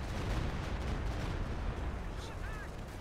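Stuka rocket artillery fires in a WWII strategy video game, a dense rumbling barrage with crackling bursts under a steady wash of battle noise, fairly faint overall.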